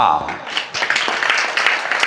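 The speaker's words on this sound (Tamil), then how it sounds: "உற்சாகமான கரகோஷம் நல்லது" A school debate audience breaks into enthusiastic clapping, a lively spread of hand claps building after a brief voice at the start and continuing steadily under talk.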